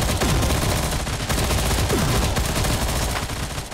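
Rapid, loud gunfire bursts from the Alpha Ace mobile shooter game on Android crackle almost without pause, with sharp repeated shots and sweeping whooshes layered together.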